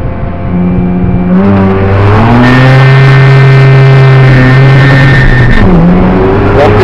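A Mazda RX7 FD3S rotary engine revs hard to about 5500 rpm with traction control switched off, loud and close, its tone rising in steady harmonic sweeps, holding high, then dropping briefly and climbing again.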